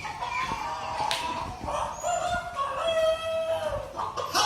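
Animatronic rooster crowing during a chicken show preview at an animal adventure park, with several drawn-out crows and clucking calls, fairly close and clear over light background noise, with no talking.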